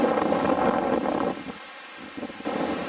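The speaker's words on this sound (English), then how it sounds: "As soon as we got here, the wind really picked up" Gusty wind at Mahukona on Hawaii's Big Island buffets the microphone with a rumbling roar that eases for a moment in the middle, then picks up again.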